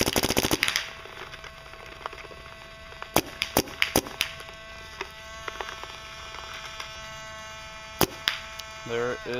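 A clone VX paintball marker, gassed up, fires a handful of sharp, loud shots in irregular bursts, some as quick doubles, over a steady electronic hum with a brief rustle at the end.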